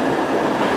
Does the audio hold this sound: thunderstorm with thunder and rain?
no